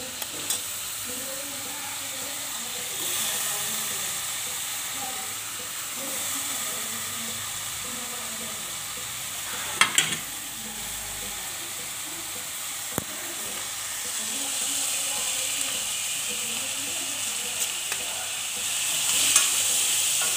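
Continuous sizzling and hissing of washed bitter gourd frying with masala in a pan, close up, with occasional stirring clinks and scrapes and a few sharp taps.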